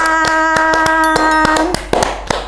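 A run of sharp, evenly spaced hand claps, about ten in quick rhythm, sounds over a steady tonal music bed that fades toward the end.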